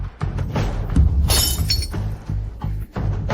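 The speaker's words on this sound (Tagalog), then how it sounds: "nabasag na rin ang pintuan sa likod" A back door is smashed in, with loud glass shattering and breaking crashes mixed with thuds in a tense fight scene.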